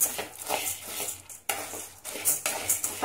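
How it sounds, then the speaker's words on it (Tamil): Toor dal and chana dal dry-roast in a pan for sambar powder, with soft rustling and scraping as the dry lentils are stirred and tossed in short, uneven strokes. "சீக்கிரமா கடலைப்பருப்போடு சேர்த்து போட்டால் ரெண்டு ஒன்று போல நல்லா நமக்கு சூடாகி வறுபட்டு வந்துடும்"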